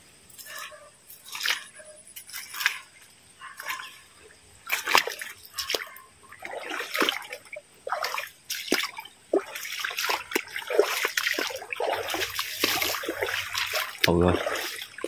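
Water splashes and sloshes in uneven bursts as someone wades along a hillside stream, with trickling and squishy steps close by and someone talking intermittently over it.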